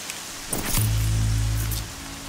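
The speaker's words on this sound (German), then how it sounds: "Alter, wie es regnet." Rain in the video game Horizon Zero Dawn, a steady hiss of falling rain with a low droning swell in the middle and a few brief clatters.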